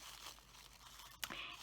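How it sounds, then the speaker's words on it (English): A sheet of 6x6 craft paper is crumpled and uncrumpled by hand, giving faint crinkling followed by one sharp crunch near the end. "all I'm going to do is crumple this up really good"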